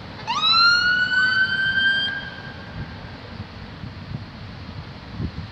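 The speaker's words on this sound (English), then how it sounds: "Must have been an important statement to get a siren out of it." A siren gives a brief rising whoop up close, then cuts off, leaving rumbling traffic and street noise behind.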